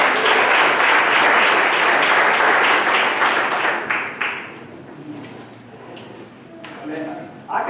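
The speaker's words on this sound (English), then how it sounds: "let's give a nice round of applause for Brother Trevor" Audience applause for Brother Trevor at a church gathering, loud at first and then thinning out into scattered claps and murmuring voices over the last few seconds.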